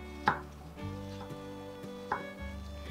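A knife dices tomatoes on a cutting board, giving a couple of sharp, distinct chops spaced apart over a quiet steady hum.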